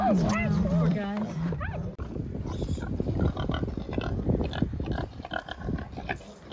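Piglets squealing on castration day, a burst of shrill rising squeals up close followed by grunting, snuffling farm-animal noise, with people talking over it.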